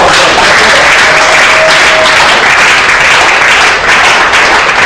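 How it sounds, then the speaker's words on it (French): Audience applause fills a church gathering with steady, dense clapping throughout, loud and continuous with no pause. "Alors exprimons leur joie en applaudissant."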